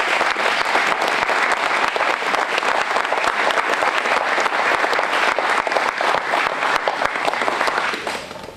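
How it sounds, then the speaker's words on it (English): A crowd at an airport grand opening gives a big round of applause. The clapping is loud and dense, holds steady for over eight seconds, then fades off at the end. "Why don't you give him a great big round of applause?"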